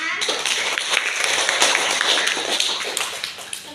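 Classroom children clapping together, a brisk burst of many small hands that holds steady for a few seconds, close and moderately loud, with a voice faintly mixed in.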